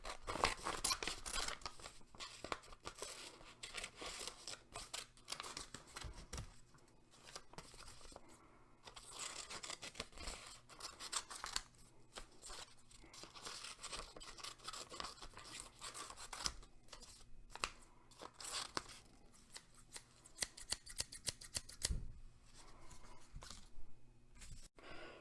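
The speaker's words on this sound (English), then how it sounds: "Today, we are going to cut some of the stuff out for my sculpture." Scissors cut through material for a sculpture, with repeated close, crisp snips and crunchy rustling in an irregular rhythm, quiet and continuous with no talking.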